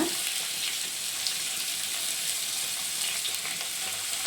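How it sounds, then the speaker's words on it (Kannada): Beans and carrots frying in a pan for vegetable fried rice, a steady close sizzle with a soft hiss that runs on evenly, with no talking. "ಕ್ಯಾರೆಟ್ ಸ್ವಲ್ಪ ಫ್ರೈ ಮಾಡೋಣ ಫಸ್ಟು"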